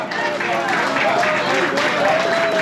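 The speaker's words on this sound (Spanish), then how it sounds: "Denle un fuerte aplauso al Señor" Church congregation applauds during a Spanish-language worship service, a continuous dense clapping heard over crowd noise, with voices and a faint sustained tone mixed in throughout.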